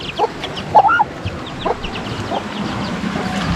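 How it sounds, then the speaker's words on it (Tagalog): A mother hen with her chicks clucking in short, scattered bursts over a low background hum, with a few sharper squawks near the start. "Ito yung nanay niya, nanay ng mga sisiw."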